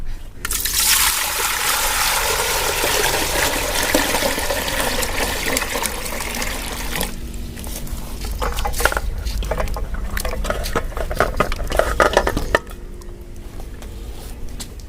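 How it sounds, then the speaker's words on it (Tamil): Tap water runs and splashes steadily over lemons being rinsed in a kitchen, a loud continuous gush and trickle that eases to lighter dribbling and splatter toward the end, with no talking. "வாங்க போய் தண்ணி ஊத்தி க்ளீன் பண்ணலாம்"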